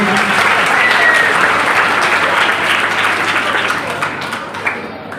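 Crowd at a Christian religious gathering in Wazirabad bursts into loud, dense applause that holds strongly, then tapers off near the end.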